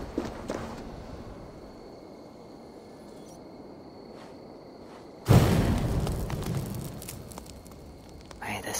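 A fire pit in the video game AC Valhalla lighting: a quiet stretch with light ambient tones, then a sudden loud whoosh of ignition that becomes a sustained roaring, crackling blaze.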